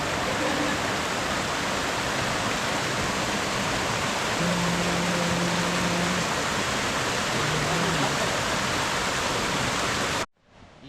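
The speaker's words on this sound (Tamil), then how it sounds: "இப்போ ஒரு ஆறுக்கிட்ட வந்துருக்கோம். ஆறா ஓடையா என்ன தெரியல." A river stream on the Netravati Peak trail rushes loudly and steadily, a dense broadband wash of flowing water close by that continues alone until it cuts off abruptly near the end.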